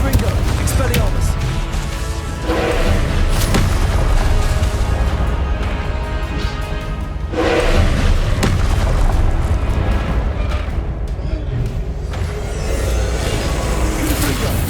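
Confringo blasting-spell explosions from Hogwarts Legacy: dense, continuous booming bursts over loud game music and effects, with a few heavier blasts standing out.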